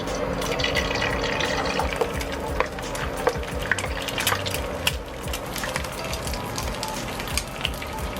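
Cooking oil poured into a pan for frying an egg over rice, a continuous liquid trickle with small drips and light clicks scattered through it, close and steady.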